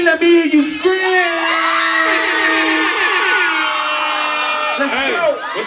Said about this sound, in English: If your pussy clean, let me hear you scream.